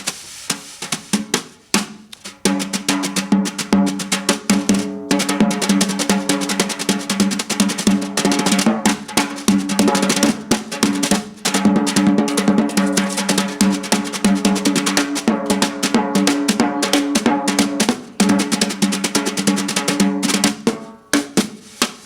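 Clayton Cameron plays a drum kit to imitate Arthur Duncan's tap dancing, a long run of rapid, tightly packed strikes with ringing tones, loud and close, with no talking.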